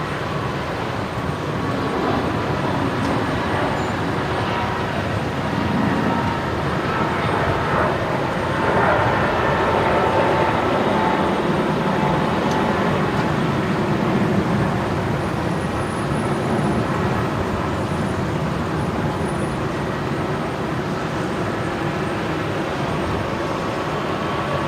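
Aircraft landing on runway 01 right at Brisbane Airport at night, a steady broad roar of engine and airflow that holds at a fairly even level the whole time, with no talk over it.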